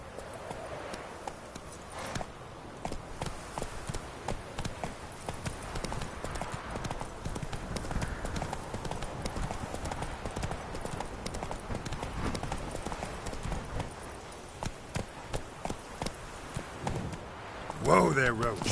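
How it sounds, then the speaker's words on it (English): A horse's hooves clip-clop in a steady, rapid rhythm throughout in The Witcher 3 video game. A brief voice or whinny rises near the end. "Whoa there, Roach"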